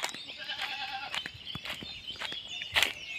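Several goats bleat inside a goat house, close and fairly loud, with overlapping wavering calls and short cries repeating across the clip.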